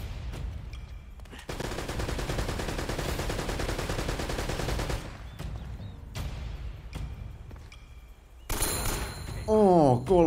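Revolver gunfire in Uncharted: Drake's Fortune, heard as a dense run of loud gunshots that fills the middle of the clip. Game noise and effects come before and after it, with a rising tonal sweep near the end.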